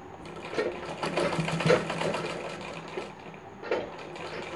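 Sewing machine stitching a katori blouse, a brief run of quick, even mechanical whirring that swells and settles, with one short burst near the end, fairly quiet and with no talking.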